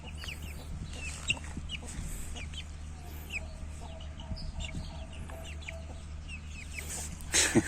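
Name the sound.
chicks chirping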